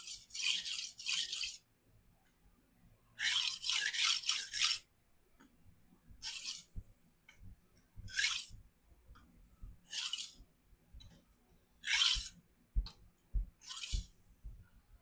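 Knife blade scraped across a 50 and 200 grit resin diamond sharpening stone to remove the burr, in repeated short rasping strokes, a few long bursts then quicker single passes, close and fairly loud with no talk.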